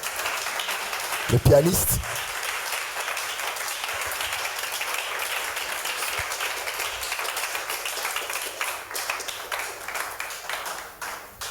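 Congregation at a church service applauding and cheering, a steady broad wash of clapping and crowd noise filling the room throughout, with a sharper loud burst near the start and a voice speaking briefly over it.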